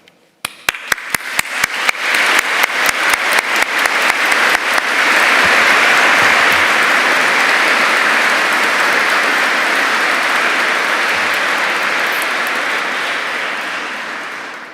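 A large audience at a University of Kent graduation ceremony in Canterbury Cathedral breaks into applause, opening with a few distinct claps that quickly swell into sustained, reverberant clapping filling the stone space, then slowly tapering toward the end.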